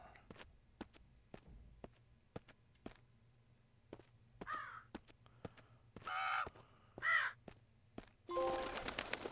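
Crows caw several times in a video game scene, the harsh calls coming in short bursts over a quiet ambient bed with faint ticking footstep-like taps; a louder, noisier sound swells at the very end.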